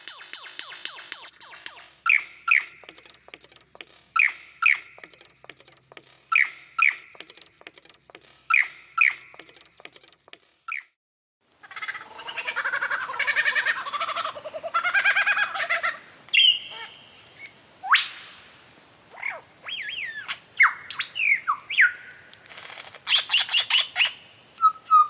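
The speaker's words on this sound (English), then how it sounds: "The sweet bird song of some of the smaller birds of Estolia was like a musical chorus in the background." Small songbirds of the land of Estolia chirp and trill in short repeated phrases at first, then a denser, overlapping chorus of tweets and warbles takes over, moderately close and clear with no voices.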